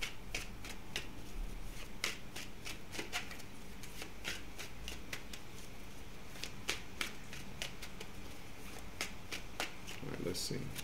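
A deck of playing cards being shuffled up close, with rapid riffling bursts and crisp snapping flicks repeating in quick runs over a faint background.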